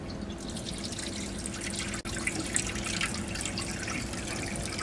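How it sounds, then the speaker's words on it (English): Steady running water with a faint drip-like patter over a low mechanical hum from a water pump feeding a geological abrasive cutter for rock samples, continuous and close, no voices. "turn on the pump."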